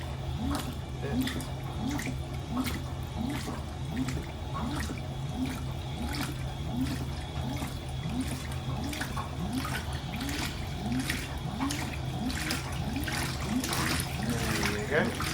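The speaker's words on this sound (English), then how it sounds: "Alright, just filled for the rinse." Fisher & Paykel Intuitive washing machine filling with water for the rinse, a steady rushing flow under a rhythmic sloshing churn that repeats about every second, close and continuous.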